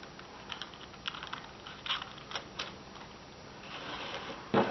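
Scissors snipping the paper tail feathers off a handmade holiday envelope, a series of soft, close crisp cuts and rustles with a louder snip near the end.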